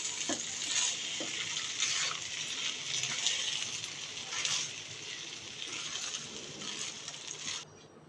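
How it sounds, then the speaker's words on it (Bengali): Colourful zarda sweet rice is gently stirred in a hot pan, giving a steady soft sizzle with light scraping strokes every second or so before it suddenly stops near the end. "দেওয়ার পর আস্তে আস্তে নাড়াচাড়া দিয়ে আলতো হাতে মিশিয়ে নেব।"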